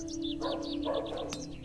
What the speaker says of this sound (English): Oh, so there's a sparrow there now.